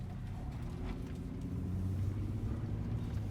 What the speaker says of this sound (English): we're gonna go ahead and take this Frontier out on the main road